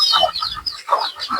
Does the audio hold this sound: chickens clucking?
yes